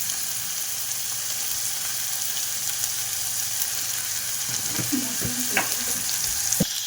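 Vermicelli noodles fry in oil in a pan with a steady, bright sizzle. Near the end, a few clinks and scrapes of stirring cut through.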